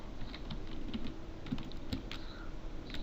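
Typing on a computer keyboard at a DOS prompt, scattered quick key clicks and taps at a moderate pace over a steady background hum, with no voices.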